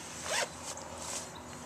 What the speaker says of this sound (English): These zip up.